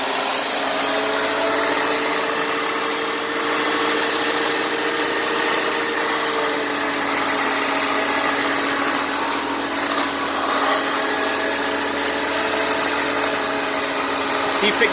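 A 2003 Honda Accord J30 V6 idles steadily while intake cleaner is sprayed in hard, a continuous engine drone under a loud hissing spray, with no stalling or break.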